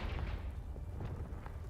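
A Confringo fire spell explodes in the video game Hogwarts Legacy, giving a dense, booming blast with crackling bursts over a low rumble, loud and continuous for under two seconds.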